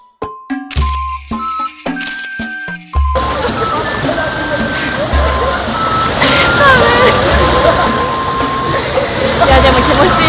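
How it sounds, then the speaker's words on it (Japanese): A river flowing near a waterfall gives a steady, full rush of water. It follows a few seconds of a musical jingle, and a voice seems to be present over it. "滝の近くの川にもやってきました"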